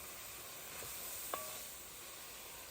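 Beef chili mixture with brown sugar and tomato paste stirred in a hot pot, a soft steady sizzle with faint scraping and one brief spoon clink partway through, no voices.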